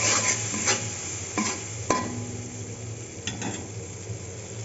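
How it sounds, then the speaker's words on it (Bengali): Masala spice paste fries in a pan for potol kalia, a soft continuous sizzle with occasional scraping knocks of a spoon against the pan, close and moderate, without talking. "মশলাটা একটু কষিয়ে নিলে ভালো হয় এখন মশলাটা কষিয়ে পটল দিয়ে দেবো"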